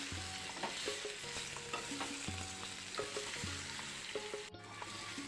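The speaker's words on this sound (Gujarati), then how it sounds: "હવે આપણે આ મુઠિયા વઘારમાં એડ કરી દઈશું" Cabbage muthiya dumplings stirred through a hot sesame-seed tempering in a pan, with steady sizzling and repeated scraping, clattering spoon strokes close up, no voices.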